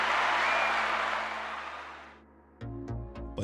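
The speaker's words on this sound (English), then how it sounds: "Round of applause from the live studio audience" A live studio audience applauds, a dense wash of clapping that fades out, then a short burst of low thumping beats follows.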